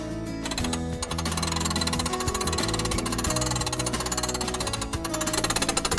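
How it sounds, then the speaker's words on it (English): A hand crank turns steadily to raise the roof of a tent trailer, giving a close, continuous mechanical rattle and grind of gears for the full six seconds. "So the next step is to crank it up."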